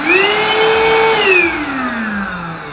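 A Eureka RapidClean Pro cordless vacuum cleaner runs close up with a steady high motor whine that holds, then slides lower in pitch as the motor winds down.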